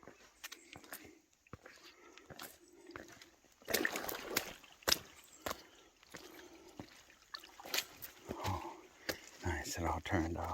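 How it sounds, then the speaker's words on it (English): Water trickles and babbles along a creek that runs down a hiking trail on the Appalachian Trail, a soft close flow with scattered splashes and footsteps, partly under quiet talk. "The trail is a babbling creek."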